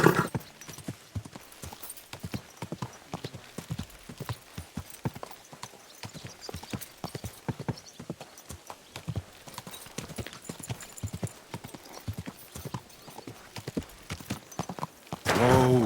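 Steady clip-clop of horse hooves trotting at a regular rhythm in the video game Kingdom Come: Deliverance II, fairly close, with a brief burst of other noise at the very end.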